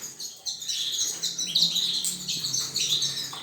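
Melanin canaries in a breeding room chirp and tweet constantly, with many overlapping close calls forming a busy, bright chatter with no talking.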